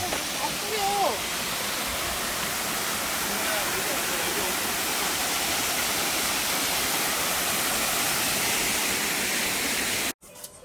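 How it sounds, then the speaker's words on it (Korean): Steady, loud rushing roar of a waterfall at a garden site in Damyang, South Korea, filling the whole clip as a continuous wash of noise before cutting off abruptly near the end. "폭포가 있습니다."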